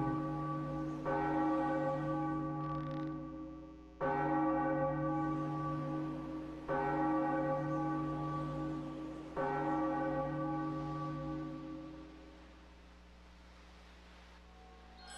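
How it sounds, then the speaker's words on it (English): Large bell in The Legend of Zelda: The Wind Waker HD video game, struck four times at even intervals, each loud ringing toll sustaining with rich overtones and decaying slowly after the last, no voices. "Just so I could ring a bell."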